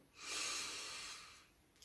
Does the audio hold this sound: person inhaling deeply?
yes